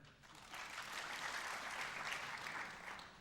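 A studio audience on a talk show applauds for about three seconds, a soft, steady patter of clapping that swells and then fades, with no speech over it.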